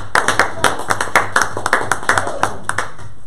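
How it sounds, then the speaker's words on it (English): Congregation at a Baptist Tuesday night Bible study clapping hands in praise, a loose rhythm of distinct, sharp claps from a modest group, fairly close and irregular, over a low steady hum. "Give the Lord a hand clap of praise."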